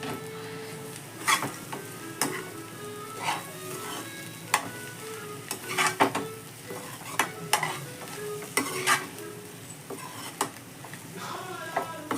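A spoon repeatedly scrapes and knocks against a pan while ground jackfruit seed paste is stirred into half-cooked egg, over a continuous light sizzle with uneven clinks throughout.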